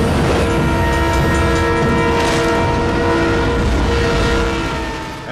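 A loud, close train roars past from the train drag racing scene of Fast and Furious, a dense sustained rumble with a horn-like tonal blare that holds steady, then fades slightly at the end.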